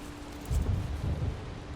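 Steady rain in the video game Valheim, a soft continuous wash with a faint low rumble swelling briefly, no voices.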